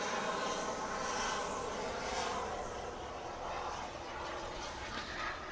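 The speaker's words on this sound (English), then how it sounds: "Powering away, putting the flaps away, and it starts to accelerate." An RC jet aircraft powers away and accelerates with its flaps retracting, giving a continuous loud turbine roar and whine that holds steady throughout with slight shifts in pitch.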